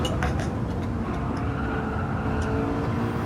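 A McLaren 650S supercar engine in Gran Turismo 7 holds a steady, loud drone under throttle across a crest on sport soft tires, a continuous broadband roar with faint talk beneath.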